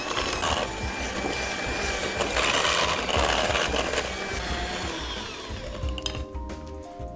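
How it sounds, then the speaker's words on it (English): Electric hand mixer beating two sticks of margarine in a bowl, a loud steady whirring buzz with rattling of beaters against the bowl, running continuously before easing slightly near the end. "we're just going to take the electric mixer and we're just going to beat them just a little bit to make them fluffy"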